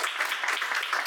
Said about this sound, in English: Can we all please give a huge round of applause?